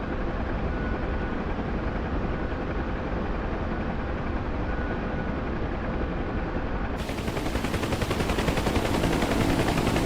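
Huey helicopter in a video game, loud constant rotor chop and engine drone, growing harsher and brighter toward the end, with no speech.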